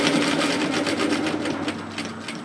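A sewing machine runs steadily close up, stitching along the edge of a pleated peplum twist top, with a rapid even needle rhythm and no talk.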